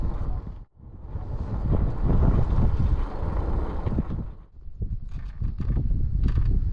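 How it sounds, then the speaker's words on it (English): Wind gusts across an outdoor fishing spot in a loud, continuous low rumble buffeting the microphone, dipping briefly a couple of times before picking up again. "You can feel that wind here."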